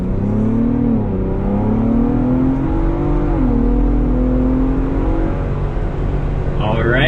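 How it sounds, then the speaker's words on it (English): A 2026 Ford Bronco Raptor engine pulls steadily and loudly as the off-road truck accelerates up to 55 mph, its drone rising in pitch and then holding level, with a voice talking over it. "There's our acceleration up to 55 miles an hour."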